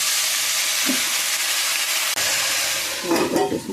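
Spinach tossed into a pan of fried onions and tempering spices gives a loud, steady sizzle with a brief clatter of stirring near the end, close and with no talking.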